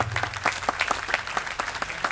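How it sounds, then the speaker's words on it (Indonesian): An audience at a Maiyah gathering with Cak Nun and Kiai Kanjeng at UII breaks into applause, a steady mass of hand claps with a few sharper individual claps standing out. "Tepuk tangan, tepuk tangan."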